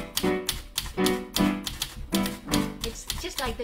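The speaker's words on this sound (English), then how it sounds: "Having a problem with the typewriter." A typewriter used as a solo percussion instrument, keys hammered in a steady, fairly loud rhythm of crisp clacks, some strikes grouped in pairs, carrying on for several beats.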